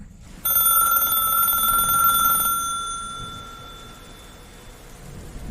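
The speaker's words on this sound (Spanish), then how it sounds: "Violet recibió una misteriosa llamada de un desconocido" An old telephone rings on a stormy night, a bright continuous bell ring for about two seconds that then fades out over a low wash of rain and thunder rumble.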